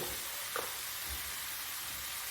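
Cauliflower frying in a pan gives off a steady, quiet sizzle that runs evenly throughout, close up, with no one speaking.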